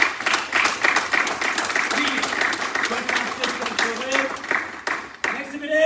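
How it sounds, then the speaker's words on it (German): Applause in a martial arts hall for candidates at a 1st and 2nd dan grading, a crowd clapping in a busy irregular patter that thins toward the end, with voices talking over it near the close. "Einen ganz großen Applaus, bitte."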